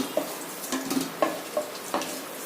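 Chicken pieces sizzle quietly in hot oil in a pan after potatoes were fried in it, with intermittent scraping and clinking of a spoon stirring against the pan.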